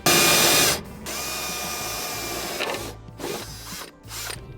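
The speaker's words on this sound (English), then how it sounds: "Use my punch to mark the center, and then I'm gonna go ahead and drill a smaller pilot hole." A power drill whines loudly at the start, then runs at a steady hum as it bores a small pilot hole, with a few brief pauses and restarts near the end.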